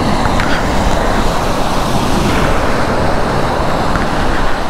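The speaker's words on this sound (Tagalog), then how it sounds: "malaki nga ang alon" Big waves churn and crash in strong wind along the shore at Barangay Tambong, Gloria, Oriental Mindoro, a loud continuous roar of surf and gusting air with no voices.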